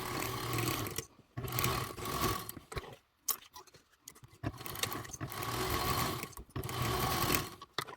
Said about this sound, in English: we've just stitched that top and bottom together at a 1/4 inch seam allowance